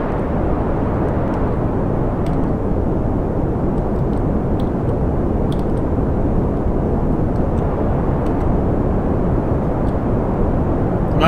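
Rocket engines fire during a launch in Kerbal Space Program, a loud, steady broadband roar that holds without a break for the whole stretch, with no talking over it.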